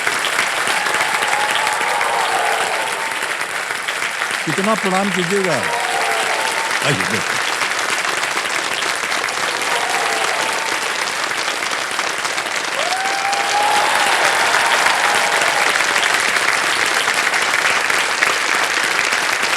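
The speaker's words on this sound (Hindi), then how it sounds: "तालियां बजती रहें" Studio audience on the KBC game show clapping steadily and loudly throughout, with the host speaking briefly over the applause.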